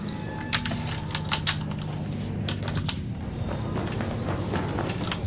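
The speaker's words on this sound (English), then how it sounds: "It's immersive with the clicking." Mechanical keyboard keys click close and steadily during a calm ASMR livestream of the game ARC Raiders, a continuous patter of taps over a low background hum.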